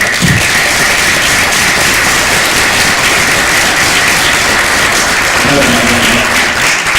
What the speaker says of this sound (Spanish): A mí me gustaría darle como felicitación de cumpleaños un fuerte aplauso a Luis Silva.